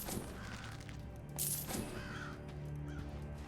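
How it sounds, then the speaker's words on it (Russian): A crow caws in the Thief video game, a few harsh calls over a steady ambient game background, moderately faint and with no talking. "Тупая ворона. Ненавижу этих ворон."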